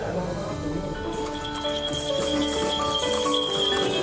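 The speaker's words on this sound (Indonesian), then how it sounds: "Kereta kuda kirap membawa kedua mempelai dan keluarga dengan pengawalan dari pasukan pengamanan presiden." Horse-drawn carriages in a wedding procession under a presidential security escort, with steady clip-clop of hooves in a busy outdoor crowd, faint bells and tonal music over it, continuous and fairly loud throughout.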